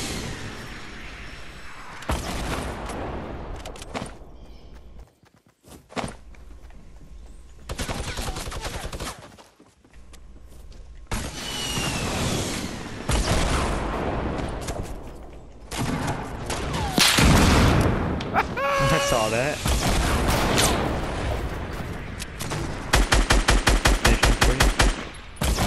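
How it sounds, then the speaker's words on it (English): Rockets and gunfire in a Fortnite Battle Royale match, loud rapid bursts of shots and blasts in dense clusters, separated by short quieter gaps. "I'm gonna send some of my rockets in there."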